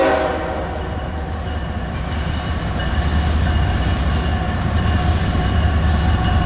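Norfolk Southern GE ES44AC locomotive leading a freight train past Canal Drive in Chesapeake, Virginia, a loud, steady rumble of the engine and rolling cars with a horn sounding at the start.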